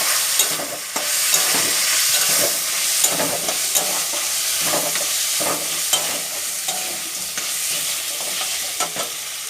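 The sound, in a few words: fish head frying in spice masala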